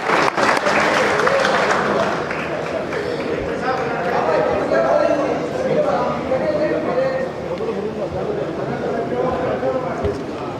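Strong applause from a crowd at a political event in Bhiwani, a dense clatter of clapping that swells and continues for about ten seconds with murmuring voices mixed in.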